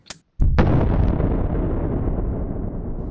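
Military engineers detonate explosives in a bunker to blast a crater: after a short sharp crack comes a huge booming blast that fills the air and rumbles on in a long, loud roar of debris and echo.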